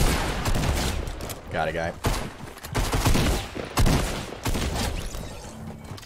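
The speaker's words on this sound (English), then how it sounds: "It's the flintlock pistol." Flintlock pistol shots in a battle-royale shooter crack amid a dense, chaotic stretch of gunfire, with several sharp reports scattered across the clip while players talk excitedly over them.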